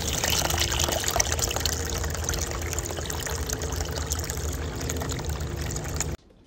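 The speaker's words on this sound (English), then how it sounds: "you can control how fast it fills up and the flow by turning that valve" A garden hose pours a steady gush of water into the reservoir of a GreenStalk vertical planter watering system, running continuously at constant volume before cutting off abruptly at the end.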